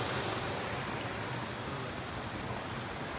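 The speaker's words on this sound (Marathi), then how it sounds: "धबधबा पार करून ये" Water flowing through a waterfall near a farmhouse makes an even, hissing rush that holds steady and fairly quiet throughout, with no voices over it.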